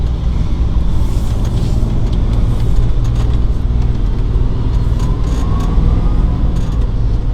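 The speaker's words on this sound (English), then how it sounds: "So we're going to take this thing up the road here so we get out of this traffic." A 2007 Gulfstream Conquest Super C motorhome with an 8.1 liter V8 gas engine drives along a road in traffic, its deep, steady engine and road rumble droning continuously from inside the cab.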